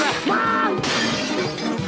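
Glass shatters and display shelving smashes inside a video game store, a loud crash with jagged, crackling debris and a second burst of breakage partway through.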